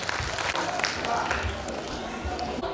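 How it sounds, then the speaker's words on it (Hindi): Audience at a school annual function applauding, a dense steady patter of many hands clapping with some cheering, loud and continuous throughout. "बालिकाओं के लिए एक बार तालियां बजाएं"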